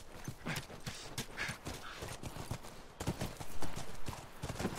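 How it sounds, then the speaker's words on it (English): Horse hooves clip-clopping in the video game The Last of Us, a steady run of soft, rhythmic hoof falls at moderate distance, fairly faint, continuing throughout with brief shifts in intensity and no clear talk over them. "Come on, back to the horses."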